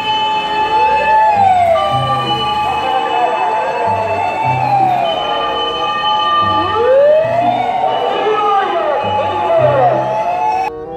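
A wailing toy fire truck siren rises and falls repeatedly in a steady electronic cycle, close and fairly loud, with a low mechanical beeping underneath.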